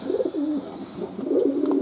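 Fantail doves coo softly and close by, with low, rolling coos repeating one after another.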